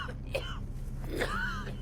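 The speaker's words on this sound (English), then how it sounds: "as soon as Walt has a coughing fit, the lawyer recognizes him." A man coughing and clearing his throat in a dramatic TV scene, two or three rough hacking bursts close up over a low background hum.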